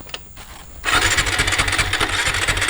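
A motorcycle engine catches after a few faint clicks and scrapes, then runs loudly and close by with a rough, steady pulsing idle, and no voices are heard.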